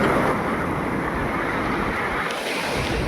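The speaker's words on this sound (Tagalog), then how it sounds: "lakas yung alon" Strong sea waves break against a seawall, a continuous loud rush of surf and spray with wind buffeting the microphone throughout.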